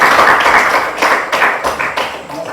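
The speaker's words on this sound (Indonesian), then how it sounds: "Silakan tepuk tangan." Students in a Grade 7 classroom clap their hands on cue, a loud, close burst of dense clapping with a few stronger claps standing out, thinning slightly toward the end.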